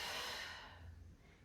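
A single long, breathy exhale from a person folding forward in a yoga pose, close and soft, trailing off into quiet breathing with no talk.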